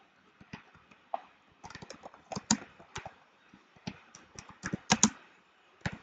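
Fingers type on a computer keyboard, a quiet, close series of irregular clicks and taps in short bursts, with brief pauses between key runs and no voices.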